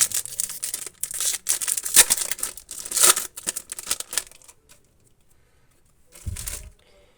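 Crinkly plastic snack packaging from Japan is torn and rustled open at close range in bursts of crackling, followed by a quiet pause and a brief soft thump.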